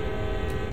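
A train horn in the Train Sim World railway simulator, sounded as a signal: one steady held blast, loud and close, running through the whole moment with no talk over it.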